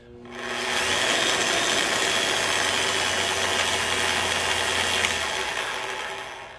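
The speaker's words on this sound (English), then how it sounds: "When this cutter is wobbling back and forth" A Vevor 2-inch capacity first-generation magnetic drill runs with its cutter spinning, giving a loud, steady whirring drone that starts up, holds for several seconds and winds down, with no talk.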